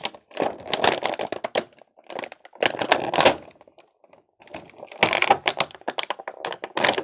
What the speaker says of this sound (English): Sorry you guys can't see me cutting, but it's literally very difficult and I don't want to cut him.